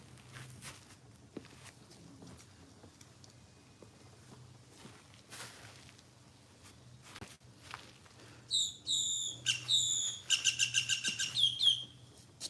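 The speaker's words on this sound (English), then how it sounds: "My bird saying good morning to me." A pet bird indoors gives a quick run of bright, close chirps and tweets near the end, following a stretch of quiet room noise with light shuffling footsteps.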